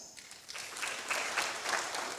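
An audience in Eldoret claps for Kenya's Tokyo Olympics champions, the applause swelling from a soft start into a steady, dense wash of hand-claps.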